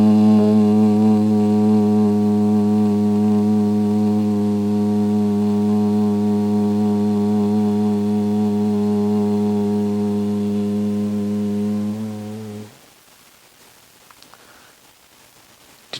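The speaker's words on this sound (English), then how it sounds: "I just pulled the air in, I breathe out, but with the humming noise of hum, or you can say Om." A person hums a long, steady Om on a slow, relaxed exhale during a breathing exercise. The tone is loud, close and sustained for about twelve seconds, then stops abruptly and leaves near silence.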